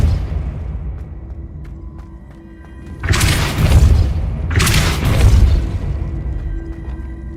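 A Depulso spell is cast in the Hogwarts Legacy video game: two loud, close, whooshing bursts about a second apart rise over a low rumbling game ambience.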